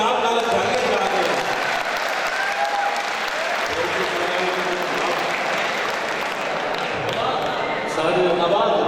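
Sustained, dense applause from an audience at a college poetry gathering fills the space, a steady wash of clapping with a brief swell near the end.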